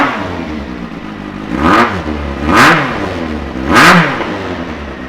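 A 2015 Kawasaki Z800 ABS motorcycle with a baffle fitted in its exhaust idles loudly up close, then is revved sharply three times in succession, each blip rising and falling back to a rumbling idle.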